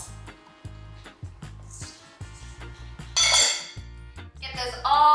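A whisk or spoon taps and scrapes against a bowl while dry ingredients including oats, cinnamon, nutmeg, baking powder, baking soda and salt are mixed, with rhythmic knocks and a couple of brighter clinks near the end.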